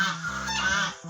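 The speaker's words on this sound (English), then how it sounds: "they are the goose and the gander" Goose honking at a farm, close and loud, with honks from the goose and gander overlapping in a steady run of calls and no talking.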